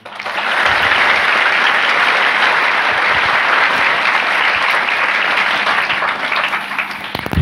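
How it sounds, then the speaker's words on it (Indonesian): An audience at an Islamic boarding school gathering breaks into sustained applause for Kiai Haji Tahir Abdul Hamid, a dense, even wash of clapping that swells quickly and holds for several seconds before tapering slightly. "Kasih aplaus buat beliau."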